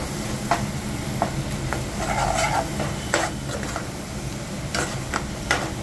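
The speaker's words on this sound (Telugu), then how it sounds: "ఇలా యాడ్ చేసుకుని వేయించుకోవాలి" Raw turmeric paste frying in a pan makes a steady sizzle punctuated by sharp utensil taps and scrapes against the pan, close and fairly loud, with no talking.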